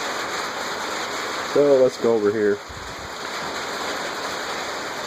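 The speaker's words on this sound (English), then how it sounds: "but as you can see, it's pouring rain." Heavy rain pours steadily outside as a constant broadband hiss throughout, with someone speaking briefly over it.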